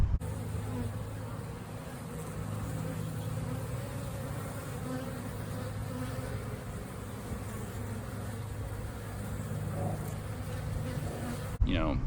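Honey bees hum in front of their hive during a mid-March split, forming a continuous close buzz that stays steady and loud for about twelve seconds before a brief knock at the end.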